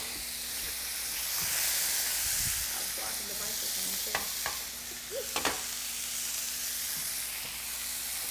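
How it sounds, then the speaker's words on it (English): Burger meat searing in a hot pan, a soft, continuous hiss and sizzle with a few small clicks and knocks, fairly quiet and without talk. "So we're just gonna let it sit, sear, and cook really hard"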